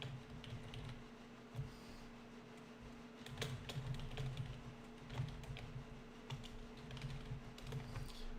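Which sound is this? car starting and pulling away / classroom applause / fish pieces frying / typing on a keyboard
typing on a keyboard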